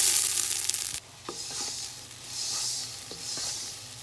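Rice frying in a pan for biryani, a steady high sizzle with the clink and scrape of stirring now and then, close and without talk.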